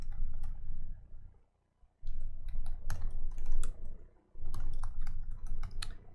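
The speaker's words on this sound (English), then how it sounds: "Let me type in the command." Bursts of fast key clicks on a computer keyboard as a command is typed into a terminal, close and clear, broken by a brief pause midway, with no talking.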